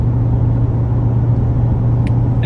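A 2018 car's exhaust idles with a steady, loud, close low rumble that holds evenly throughout, with a couple of faint brief ticks near the end.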